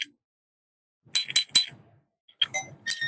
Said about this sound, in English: this is a bell coated with the sound deadening solution